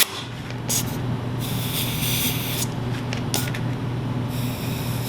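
Repeated bursts of spray from a stiff trigger sprayer nozzle during a two-piece wheel tube tire repair, several short hissing squirts spaced across a steady low hum.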